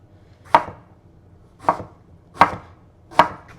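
Four crisp knife chops cut through eggplant on a board, spaced unevenly about a second apart, close and clear with no talk.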